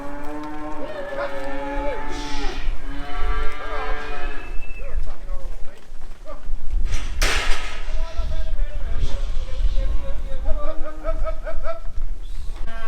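Beef cattle moo repeatedly and loudly at close range during calf weighing on a farm, with several overlapping calls, clanking and handling noises, and people calling out between them.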